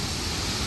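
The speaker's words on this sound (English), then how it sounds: "Big waterfall." A big waterfall in a North Carolina rainforest roars as a steady, broad rushing wash, close and loud, with no voices.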